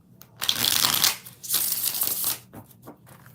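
Tarot cards shuffled by hand in two long riffling bursts, close and fairly loud, followed by a few softer taps and flicks as the deck settles.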